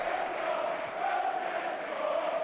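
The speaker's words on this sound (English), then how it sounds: "the crowd are singing his name" A stadium crowd at a Watford versus Sunderland football match singing a player's name, a broad sustained chant of many voices, steady and fairly loud across the stands.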